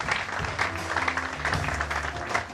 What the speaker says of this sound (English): Let's give Grace a round of applause